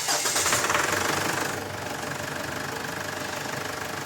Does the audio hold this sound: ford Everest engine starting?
yes